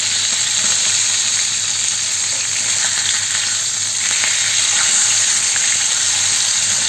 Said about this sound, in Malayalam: ഒരു വശം മൂത്ത് കഴിഞ്ഞു, അടുത്ത വശത്തേക്ക് മറിച്ചിടുകയാണ്.